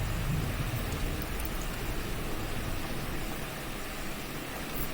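Severe storm audio from the War in the Pacific video game, with dense, steady heavy rain and a low rumble of thunder beneath it, loud and continuous, no talk.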